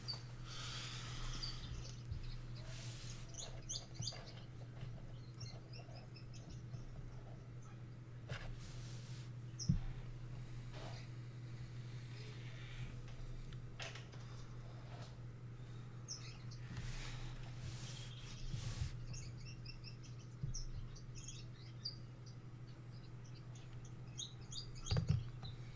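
Gouldian finches in an indoor aviary give faint, scattered high chirps and tweets over a constant low hum, with small bursts of calls recurring throughout and no one speaking.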